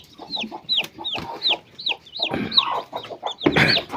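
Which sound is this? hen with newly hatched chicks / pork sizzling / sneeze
hen with newly hatched chicks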